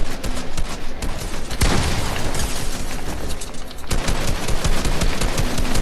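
Dense gunfire in the video game Fortnite, loud and continuous rapid bursts with a booming blast partway through, filling the whole stretch with no talking.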